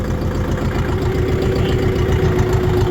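A heavy two-ton, 40 hp tractor engine runs at a steady idle, a loud, close, low rumbling chug with constant mechanical throb and no speech over it.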